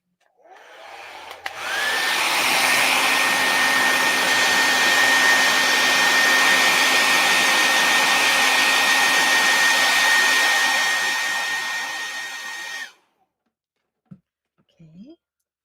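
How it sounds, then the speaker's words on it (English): Hair dryer blowing on wet purple paint, switching on with a click and running as a steady loud whirring hiss with a faint whine for about eleven seconds before cutting off, followed by brief quiet handling noises. "get the dryer."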